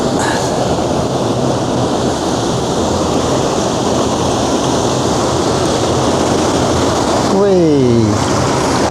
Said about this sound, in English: we'll have a little bit of white water now.